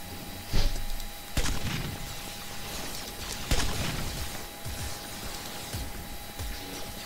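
Sharp blaster shots in a space battle video game: a few distinct loud cracks spaced a second or more apart over a steady electronic hum, with smaller pops and clatter between them.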